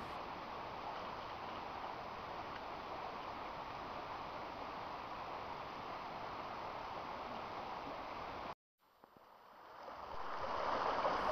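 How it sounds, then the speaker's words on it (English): A river in flood, with fallen trees lying across it, gives a faint, steady rushing wash. The sound cuts out briefly near the end and then returns slightly stronger. "Here's the river in flood"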